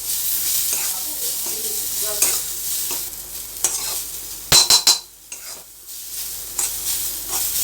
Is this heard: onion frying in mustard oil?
yes